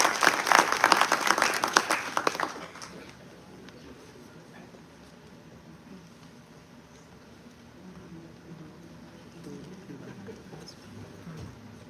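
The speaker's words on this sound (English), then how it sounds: "I think we need a rounder and warmer round of applause than that" Lecture hall audience at a legal cross-examination lecture gives a round of applause, dense clapping for about two seconds that quickly fades to quiet room noise with faint murmurs.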